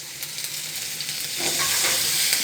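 Onions sauté in a pan with a continuous crackling sizzle that grows louder and fuller midway through, light stirring audible beneath; no one speaks.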